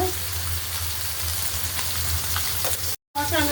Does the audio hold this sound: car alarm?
no